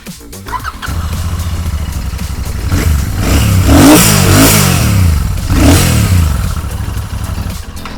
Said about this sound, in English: with this 648cc air-cooled engine that we get, do you guys want to hear the exhaust note?